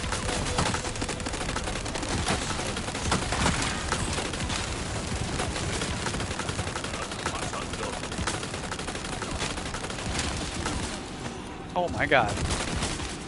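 Sustained gunfire in the video game Resident Evil 4 rattles steadily throughout, dense and continuous, while a player briefly exclaims near the end.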